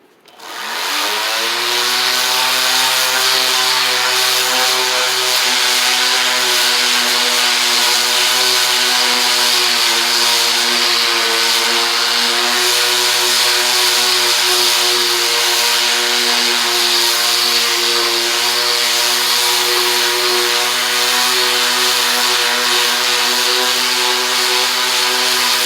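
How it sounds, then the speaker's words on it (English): Power sander working the end of a wooden stump chair, a loud, steady mechanical whine with strong harmonic tones that holds unbroken and close for the whole stretch with no voices. "I'm going to sand this end right here right now"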